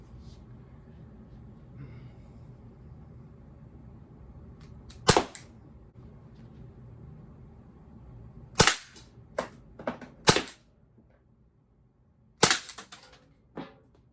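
Umarex T4E Glock 17 firing aluminum ammo at a target at point blank range, several sharp loud pops in irregular clusters with short gaps between shots.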